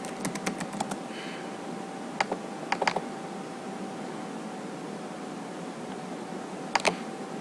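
Keystrokes on a computer keyboard, a quick burst of several clicks at the start, then scattered pairs of taps later, close and fairly crisp over a steady hum with long pauses between.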